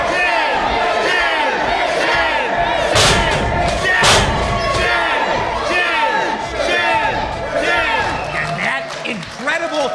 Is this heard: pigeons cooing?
no